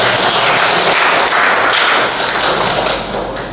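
Applause from an audience during a class session for group presentations: dense, steady, loud clapping that fills the whole stretch and fades slightly toward the end, with no talk over it.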